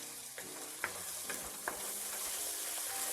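Rajma masala of onion and tomato frying in oil in a pan, giving a steady close hiss of sizzling with a few light spoon scrapes and taps as it is stirred, no speech.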